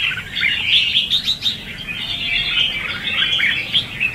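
A red-whiskered bulbul sings nearby in a loud, continuous run of bright chirps and warbling phrases over a low background hum, with no talking.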